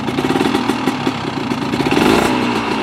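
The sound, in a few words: two-stroke motorcycle engine revving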